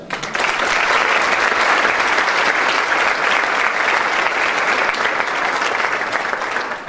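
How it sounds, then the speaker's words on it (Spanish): Sustained applause from a large ceremony audience at the Mexican judges' day event, steady and full throughout with no break in the clapping. "para quienes suplicamos sus aplausos."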